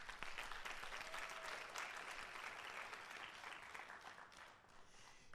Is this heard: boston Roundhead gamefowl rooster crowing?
no